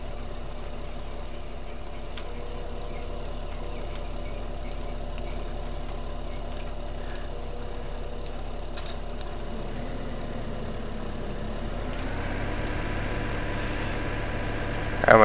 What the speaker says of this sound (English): Now this tractor's actually stuck on the fence.